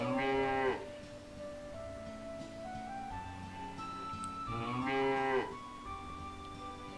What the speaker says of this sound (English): There's a cow for no reason.